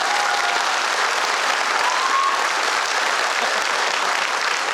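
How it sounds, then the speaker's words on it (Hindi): Loud, continuous clapping from a large audience at a product launch event, dense and steady throughout without speech. "एक बार जोरदार ताली।"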